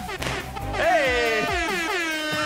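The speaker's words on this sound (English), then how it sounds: "Confetti falls, the air horn sounds at TSM Academy" An air horn blares at an esports finals trophy celebration for the 2019 Spring Academy champions, a loud wavering blast under shouting and crowd cheers.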